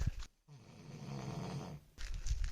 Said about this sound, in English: that snoring is so loud